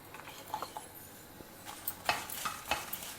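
Spicy and non-spicy Bydagi chilies roast in about two teaspoons of oil in a pan over a low flame. A soft, faint crackle comes with a few light stirring scrapes and clicks, and nobody speaks.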